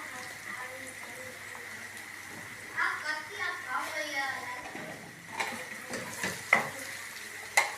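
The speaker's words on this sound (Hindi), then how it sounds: "अब हम इसको फ्राई करेंगे अच्छी तरह।" Chicken and okra (bhindi) frying in a pan, a quiet sizzle with bursts of stirring and utensil clinks against the pan, while a person talks over it.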